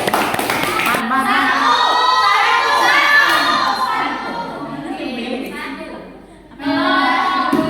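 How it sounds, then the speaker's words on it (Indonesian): A classroom audience, many of them young voices, claps, cheers and shouts loudly for the first group after a presentation, the noise swelling then dipping before rising again. "Beri aplaus untuk kelompok satu"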